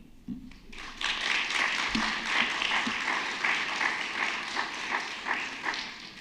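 Sustained audience applause at a symposium, steady dense clapping from a crowd that swells in after a brief pause and carries on evenly with no talk over it.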